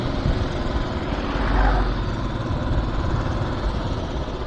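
A Royal Enfield Classic 500 motorcycle engine runs with a low, steady rumble that swells briefly near the middle, nearby and without talk.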